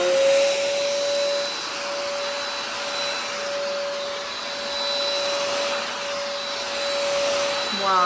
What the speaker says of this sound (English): Let's try this vacuum.